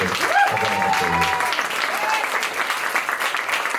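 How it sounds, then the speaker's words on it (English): A cabaret audience applauds a performer, with steady, dense clapping that holds at full strength throughout, and some tonal sound briefly rises over it near the start. "Please give Michael Roulston a round of applause."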